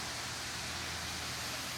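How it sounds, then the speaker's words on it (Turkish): Flowing water where two streams merge in a natural setting near a large sinkhole, a steady broadband rush with no breaks, fairly loud and alone. "Bakın iki dere birleşiyor burada."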